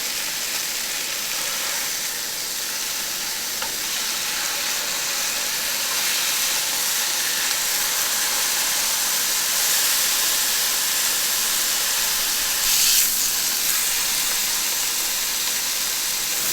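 Pork chashu searing on all sides in a hot pan, a steady loud sizzle and hiss of fat that runs continuously with only slight swells, with no voices over it.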